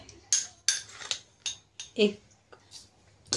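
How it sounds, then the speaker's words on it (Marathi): A spoon scooping sugar and tapping against a container while adding it to milk heating on a gas stove, heard as several sharp, close metallic clinks and scrapes spaced irregularly. "3 चमचे साखर टाकूया।"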